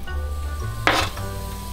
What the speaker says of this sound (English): watch it sizzle.